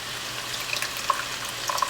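Tomato sauce, about four ounces from a small can, pours into a pan of simmering picadillo stewed ground meat, giving a steady soft liquid wash with a few faint plops, no talking.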